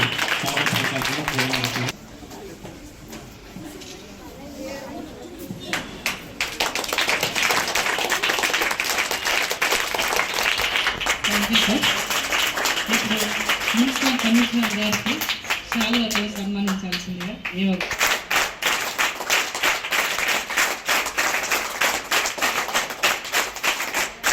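An audience at a hostel diet-menu launch event breaks into sustained clapping that continues steadily for about twenty seconds, with a speaker's voice heard over the applause in places.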